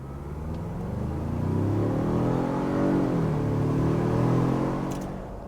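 A 2021 Ford Bronco with the four-cylinder engine accelerates hard, its engine note rising and shifting through gears as the drone swells, close and steady inside the cabin, no talking.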